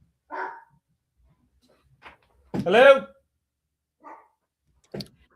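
A few short, sharp dog barks sound indoors, spaced apart with silence between them, and a person calls out once among them.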